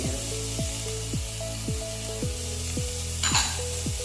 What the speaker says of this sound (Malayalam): ഇതെല്ലാം കൂടി എണ്ണയിൽ കറന്നിട്ട് ഒന്ന് വഴഞ്ഞു വരണം